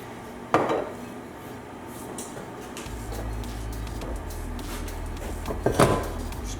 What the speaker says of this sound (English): Now we'll go over to the pan and we're going to roast the shallots.